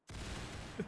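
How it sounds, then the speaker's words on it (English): Short burst of rapid gunfire in the VRChat video game, a dense continuous volley lasting under a second at moderate distance, heard alone. "Damn, that was a rapid fire."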